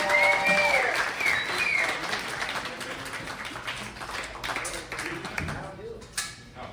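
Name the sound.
audience applause for a performer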